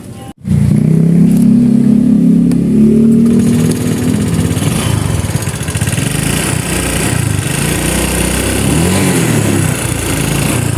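A noisy Honda Click 150 scooter engine runs steadily and loud up close, a rough continuous drone with a slight knocking irregularity throughout, no voices.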